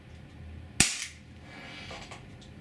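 A Walther PPS 4.5mm CO2 blowback airgun fires once, a sharp close crack with a quick mechanical clack of the slide, followed by a quiet tail and faint handling noise.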